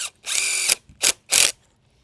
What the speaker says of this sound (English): we'll be driving them through into the top plates on all 4 corners